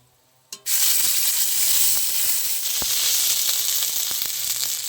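Ginger paste hits hot oil with whole cardamom, cloves, cinnamon and bay leaves, bursting into a loud, continuous sizzle after a quiet start, with a few faint stirring clicks.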